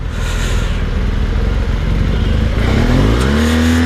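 A BMW S1000RR sport motorcycle roars loudly and close during a fast ride, its engine note climbing sharply as it revs hard near the end.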